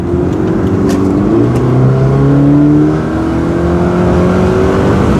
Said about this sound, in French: On entend bien le moteur et il est assez spécial le bruit.